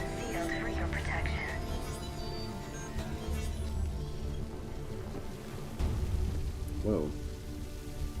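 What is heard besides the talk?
sprinkler spraying water indoors in video game Mass Effect 3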